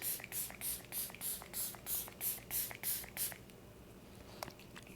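A Rare Beauty Always an Optimist prime and set mist sprays in about ten quick, evenly spaced spritzes, close and crisp, then stops, leaving faint handling clicks.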